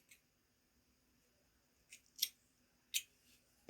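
Scissors snip through yarn in a few quiet, sharp clicks spread out over several seconds, with faint rustling in between and no talking.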